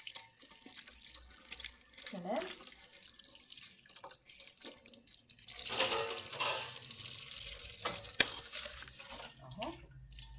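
Tap water runs and splashes in a kitchen sink while sausage is rinsed under the stream, close and steady with small clinks, and someone speaks briefly over it.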